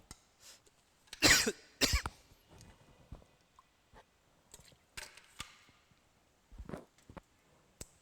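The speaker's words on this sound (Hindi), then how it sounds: "खांसी आ गया यार" A person coughing several times in bursts, close by, with quieter rustles and small knocks in the pauses between.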